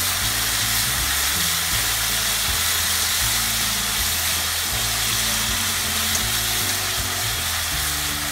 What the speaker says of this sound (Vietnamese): Tỏi đã ngả màu vàng rồi, mình cho bò, mình cho cái phần bò đã ướp vào.